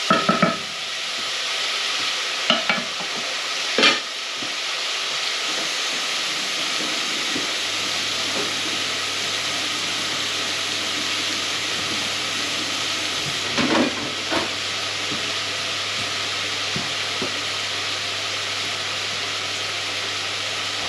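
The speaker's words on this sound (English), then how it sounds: "This is all my veg frying up now." Steady sizzling and hissing of vegetables frying in a pan throughout, with occasional clinks and stirring sounds, no talking.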